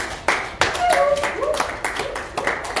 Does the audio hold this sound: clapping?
yes